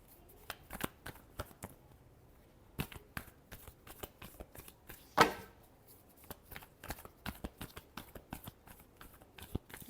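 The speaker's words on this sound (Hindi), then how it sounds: "Last shuffle." Tarot cards are shuffled in a quiet room: a run of crisp, close riffling snaps and flicks, irregularly spaced, with one louder burst of rapid shuffling near the middle.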